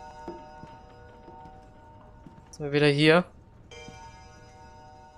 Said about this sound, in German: Glocke klingeln lassen